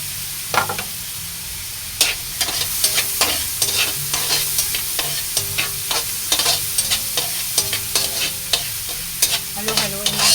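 Sautéed chayote with glass noodles (sotanghon) being stirred in a pan, a steady soft sizzle broken by repeated sharp scrapes and clacks of the utensil against the pan, close and continuous with no talking.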